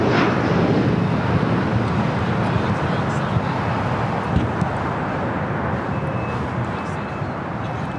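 A JSX Embraer ERJ 145 jet takes off at LAX, its engines producing a broad, steady roar with a low rumble. Wind buffets the microphone throughout.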